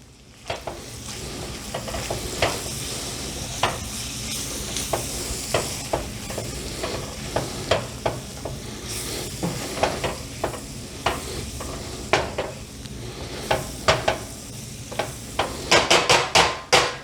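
A spoon stirs flour into sausage gravy in a frying pan, scraping steadily with regular clicks and taps against the pan over a continuous sizzle, louder knocks bunching up at the end.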